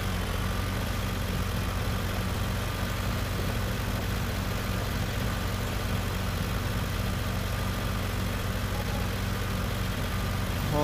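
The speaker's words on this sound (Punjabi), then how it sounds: "ਆਹੀ ਦੋ ਟਰੈਕਟਰ ਚੱਲ ਰਿਹਾ" Two tractors run in a field during cultivation with a new disc harrow, giving a steady, rumbling engine drone with constant low vibration, near and unbroken, with no talking.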